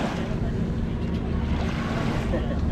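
Sea waves wash steadily onto white shell-sand at Jumeirah beach in Dubai near the Burj Al Arab, a continuous close surf roar with wind buffeting the microphone and no break in the rushing water.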